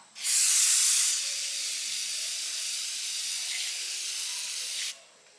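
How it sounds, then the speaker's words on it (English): A loud, steady hiss from an aerosol spray can bursts out close by onto an Austin-Healey starter motor, holds evenly for several seconds, then cuts off abruptly. "Let's just spray this off some."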